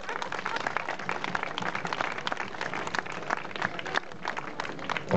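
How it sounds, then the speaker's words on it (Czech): Lively crowd applause at an outdoor cycling race awards ceremony for category winners, dense clapping with some louder individual claps, sustained and close throughout. "Poprosím o potlesk pro tuto kategorii."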